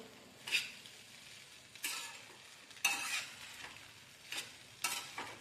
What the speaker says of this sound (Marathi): आता चांगली आपण परतू परतू घ्यायची ही भाजी